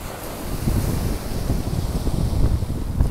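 Sea waves wash over a shingle beach and splash against concrete steps in a sea defence, making a continuous broadband roar with low rumbling surges and heavy wind buffeting the microphone.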